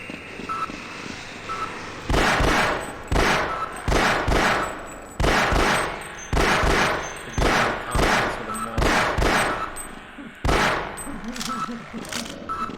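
Gunfire in the Half-Life shooter, sharp loud shots in irregular clusters separated by short gaps, repeating over a dozen seconds with a faint background hum.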